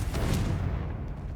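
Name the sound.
Confringo explosive spell blast in video game Hogwarts Legacy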